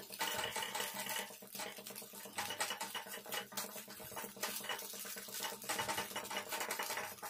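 A spatula scrapes and mashes cauliflower fried rice (gobi rice) around a pan as it fries, giving a faint, steady, scratchy stirring with no voices.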